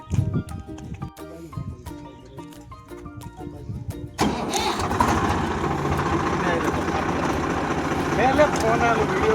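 A tractor works in an ajwain field cutting an irrigation channel; after a quieter opening with other sounds, a loud, steady engine roar takes over and runs continuously to the end.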